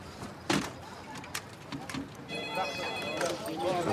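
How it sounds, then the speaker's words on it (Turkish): A telephone rings with steady electronic trilling tones in a room in a Turkish action-thriller scene, starting about two seconds in over background noise, with a sharp knock or thud early on and people talking. "Telefon!"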